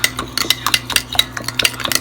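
Quick, rhythmic clinking and scraping of a utensil against a bowl as katsu sauce with granulated sugar is stirred, steady and close, with no voices.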